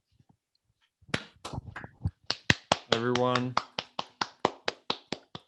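A round of applause for a new president: a single pair of hands claps in a sharp, evenly spaced rhythm, close and crisp. A voice speaks briefly over the first claps.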